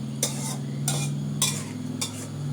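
Khanom jeen rice noodles with minced pork being stir-fried in a stainless steel pan with little oil, spatula scrapes sounding in four distinct bursts over a steady low hum, close and fairly loud, no voices.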